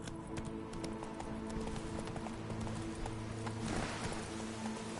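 The horse Roach gallops in a video game, hooves clip-clopping in a steady rhythm under continuous background music, with a brief rush of noise midway.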